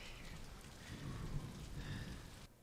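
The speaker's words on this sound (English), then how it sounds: "The rain is just adding to the scene so much. Thunder too." Heavy rain pours steadily in a stormy TV drama scene, with low rumbling thunder rolling underneath, faint and distant, before cutting off abruptly at the end.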